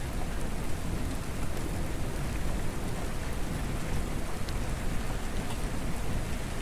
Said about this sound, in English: watching the heavy rain pour down outside